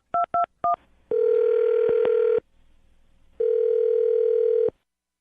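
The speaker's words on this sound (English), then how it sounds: "I'm going to dial her phone number." Three quick touch-tone beeps of a telephone being dialed, then two long steady dial tones separated by a pause, clear and close with no talking.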